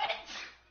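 One brief, faint sneeze bursts out and quickly fades to quiet room tone.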